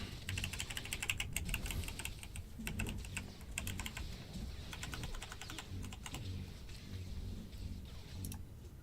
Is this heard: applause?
no